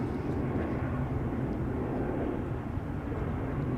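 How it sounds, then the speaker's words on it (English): An El Al airliner taking off from the center runway at Schiphol gives a steady, broad jet roar that holds evenly throughout, distant but strong, with no voices. "El Al in the meantime has taken off from the center runway"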